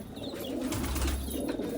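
Teddy pigeons in a breeding loft keep up a continuous low, throaty cooing, nearby and steady in loudness, with faint rustling behind it and no voices.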